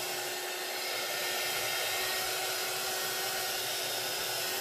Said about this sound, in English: I'm going to take my embossing gun and I'm going to move that alcohol around